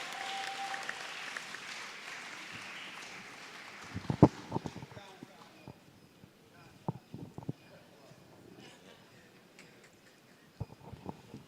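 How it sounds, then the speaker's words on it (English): Audience applause at a student awards ceremony welcoming a special guest performer, heard as a broad crowd wash in the first seconds that thins into scattered sharp claps and knocks, with a few louder bursts later. "Give him a round of applause now"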